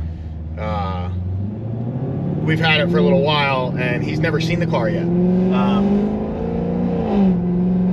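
An 1150-horsepower Cadillac CTS-V pulls hard, its engine note climbing steadily in pitch as it accelerates, a loud close rumble running beneath someone talking throughout.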